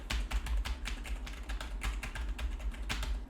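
Rapid, close-up clicking of keys on a computer keyboard, recorded through a Fifine K678 microphone, a steady flurry of taps with no talking.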